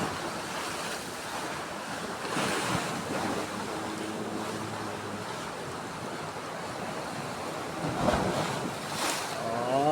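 Strong sea waves surging and crashing near the shore, a continuous loud roar with swells building around the middle and end, mixed with wind buffeting the microphone.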